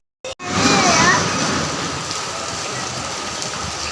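Steady rain pours down outdoors after a brief sharp noise at the start, forming a dense, even hiss that holds at the same level throughout.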